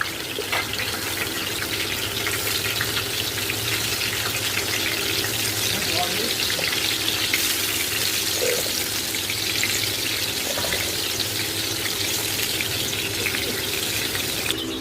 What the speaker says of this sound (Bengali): গরম হয়ে গেলে সব বেগুন ভাজাটা প্রথমে ছাড়বো